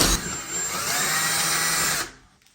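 A power drill whines steadily for about two seconds as a water-dipped bit bores a hole during a frameless shower door installation, then spins down and stops, close and loud.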